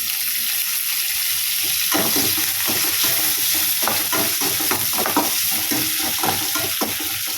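Curry leaves sizzling with softened onions in a pan for Kerala chicken curry, a constant loud frying hiss with repeated stirring and scraping strokes throughout, and no one talking.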